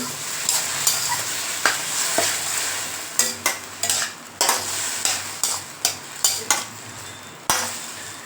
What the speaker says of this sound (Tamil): இது ஒரு ரெண்டு நிமிஷம் நல்லா வதங்கினாங்க தக்காளியோட பச்சை வாசனை போகிற அளவுக்கு